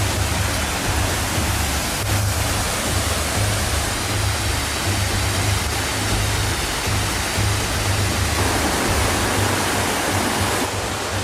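La Elsa Cascada, a waterfall in a rainforest, roars as a constant, loud rush of water from close by that stays unbroken for the whole stretch, with no voices.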